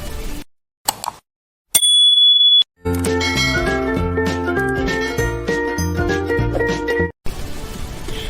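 A bright notification bell dings once with a sustained ringing tone, set between brief clicks and followed by a loud, busy stretch of music.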